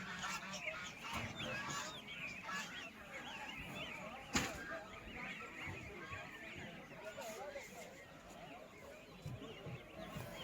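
Geese honk amid the bustle of the Sunday market in Hotan, Xinjiang, repeated nasal calls over a dense murmur of crowd chatter and market noise, with one sharp knock partway through.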